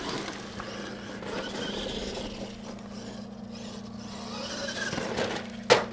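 Traxxas E-Maxx RC monster truck, a mud truck, driving with a steady motor whine and hum, moderately quiet with slight rises in pitch, ending in a sharp knock.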